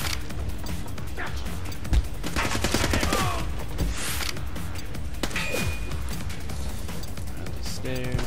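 Assault rifle fire in the shooter video game The Club, with bursts of gunfire, impacts and crashes over a continuous game soundtrack.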